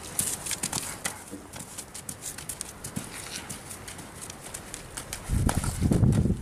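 Hooves clip-clop in a quick, steady trotting rhythm on soft ground, close by, growing louder and heavier toward the end.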